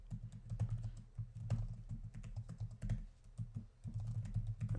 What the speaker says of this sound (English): I'll just type it in real quick